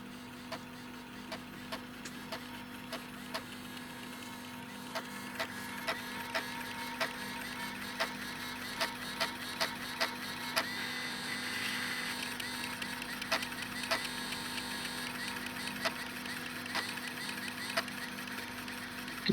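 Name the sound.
Toshiba T1950CT laptop hard drive struggling while formatting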